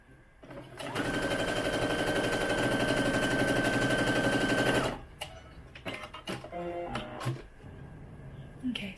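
A sewing machine runs steadily for about four seconds while hemming a doll undergarment, a loud close whirring buzz, then stops, followed by fabric handling and a few short clicks.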